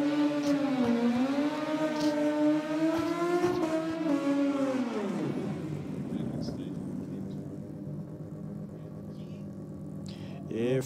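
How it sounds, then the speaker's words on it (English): A VL Commodore and a Mazda RX3 at a drag strip, a loud engine revving in a rising and falling whine that drops away into a lower steady rumble, sustained throughout. "we've got another VL Commodore down here in the rocket lane about to take on Wild 3"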